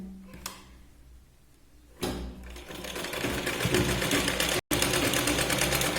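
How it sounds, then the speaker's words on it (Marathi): A sewing machine stitches a blouse shoulder seam, a steady rapid whirring run that starts softly, surges louder after a short pause and keeps going with one brief break. "शोल्डरला 2 ते 3 वेळा शिलाई लावून व्यवस्थित इथे मॅच करून घ्यायचे"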